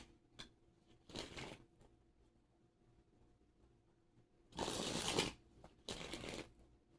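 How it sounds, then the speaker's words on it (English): A Starman tarot deck gets shuffled in several rapid riffling bursts, two of them short and two longer, close up with quiet gaps in between. "I'm gonna pull out a few cards from the Starman deck"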